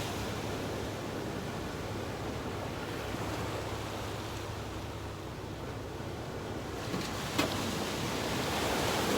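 Sea waves rolling in onto a shingle beach where a traditional beach boat is launched for herring gill netting, a steady close wash of surf with wind, swelling slightly louder toward the end.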